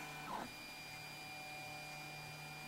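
A MendelMax 3D printer driven by LinuxCNC prints a simple extruded part, giving off a steady, quiet mechanical hum with a soft stepper whir near the start and no talking.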